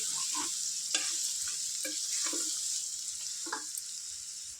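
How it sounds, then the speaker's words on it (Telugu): Goat tripe (boti) frying in oil for a Telangana-style curry, with a steady close sizzle broken by several sharp scraping stirs of the pan. "ఇది కూడా ఒక ఫైవ్ మినిట్స్ ఫ్రై చేసుకోవాలి ఆయిల్లో"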